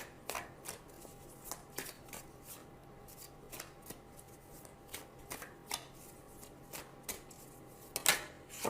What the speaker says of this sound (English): Now I'm going to choose two cards for guidance.